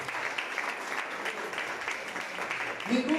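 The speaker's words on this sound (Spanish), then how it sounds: "Un aplauso para nuestro Dios" A church congregation applauds after a sermon passage, steady mid-level clapping that stays even for about three seconds, with a faint voice rising near the end.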